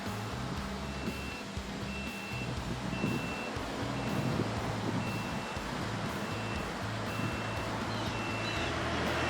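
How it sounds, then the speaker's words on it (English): An 80-foot man lift warms up and lowers, its steady diesel engine rumbling while a motion alarm beeps in a regular, evenly spaced series throughout. "I'll go ahead and get the man lift warmed up and bring her down"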